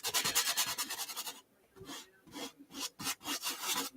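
A paintbrush scrubs paint onto canvas while painting a marina landscape, giving fast rhythmic bristly strokes, a rapid burst, a brief pause, then more close scratchy scrubbing.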